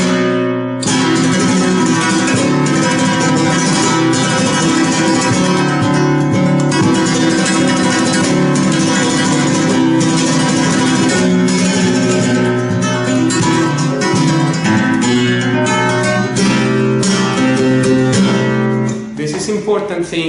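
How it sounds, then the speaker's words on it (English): A modern flamenco guitar plays a continuous, dense run of bright, metallic rasgueado strumming for about twenty seconds, loud and close, with quick rhythmic accents and no pauses, alone without talk. "this should be a rather metallic sound"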